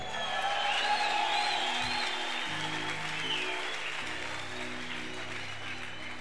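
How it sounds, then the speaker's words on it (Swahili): Church congregation clapping for Jesus, a steady broad wash of applause at moderate distance with musical tones and a low hum underneath throughout. "Ba chef wiko hapo wapigie Yesu makofi."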